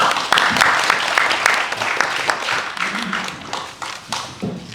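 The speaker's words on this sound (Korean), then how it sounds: "여러분 박수로 환영해 주시기 바랍니다" An audience at a forum on inter-Korean relations breaks into applause to welcome a speaker. Dense, fairly loud clapping fills the room, with scattered sharp individual claps standing out, and it thins out toward the end.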